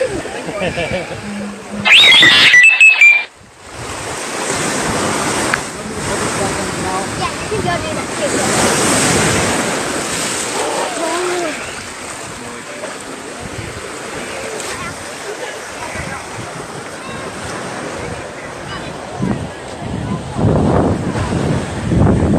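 Ocean surf breaks steadily on the beach at the Nags Head beach access on a morning outing, a continuous rushing wash with wind buffeting the microphone and faint voices underneath.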